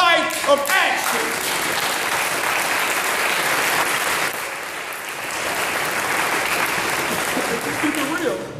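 An audience at a Black Lives memorial claps steadily for several seconds in dense, sustained applause that swells and then tapers, with a voice heard over it at the start.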